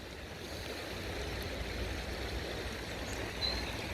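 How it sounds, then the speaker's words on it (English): Floodwater laps in along a riverbank during Storm Amy in constant rain, a soft continuous wash of water with faint rushing texture, fairly distant and low, no voices. "the water is lapping in, therefore it is actually still increasing in flood"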